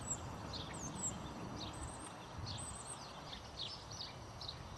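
Faint, high starling whistles and wheezy chirps come in scattered bursts from a flock in a park, set against a steady, low outdoor rumble.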